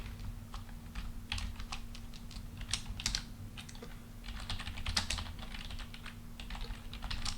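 Rapid typing on a computer keyboard while writing Linux code, bursts of close, crisp key clicks in an irregular rhythm over a low steady hum, with no talking.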